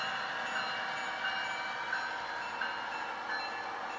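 A steady, continuous rumble and rattle of a modern passenger train rolling along the track near Seattle Interbay, fairly close and unchanging, with no voices.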